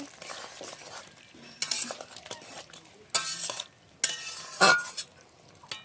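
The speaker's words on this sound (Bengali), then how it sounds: "মাছের ঝোল হয়ে গেছে, একটু ধনিয়া পাতা দিয়ে নাড়াচাড়া করে ঝোলটা নামিয়ে নেব।" Rohu fish curry with potatoes and coriander leaves stirred in a pot, a spoon scraping and clinking against the metal in uneven strokes, close and fairly quiet, with no talk.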